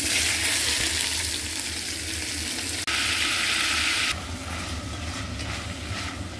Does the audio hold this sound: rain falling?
no